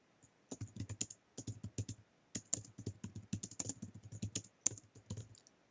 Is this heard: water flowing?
no